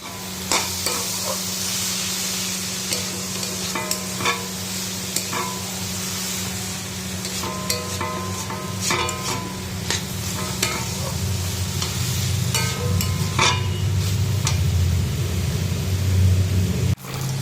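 Cut potatoes sizzle loudly in a frying pan while a utensil stirs and scrapes them in repeated strokes, the frying hiss steady and close throughout.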